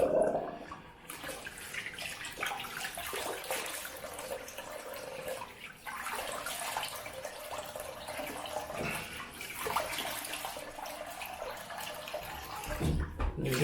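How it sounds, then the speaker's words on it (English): After a double-edge razor shave, water runs and splashes continuously as the face is rinsed, a close, uneven wash of rushing and dripping that shifts in intensity without pause. "And then I'm going to rinse off"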